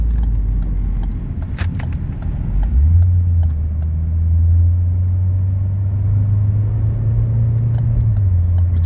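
Ford Focus under way, its engine note rising and holding as the car accelerates, a steady mid-low drone with road noise and a few faint clicks, no talk.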